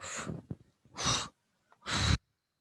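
Three slow, deep exhalations through the nose and mouth during a seated chair yoga session, close and breathy, separated by short pauses with no talk.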